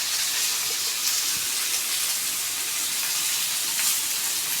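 Chana and potato masala sautéing in a pan gives a steady, bright sizzle with soft stirring, close and even throughout, no voices.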